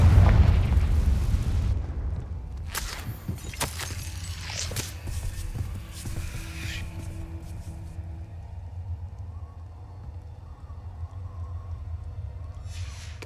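A Confringo spell explosion in the Hogwarts Legacy video game: a loud, rumbling blast at the start that decays into crackling debris and scattered pops, followed by a low ambient drone and faint clatter.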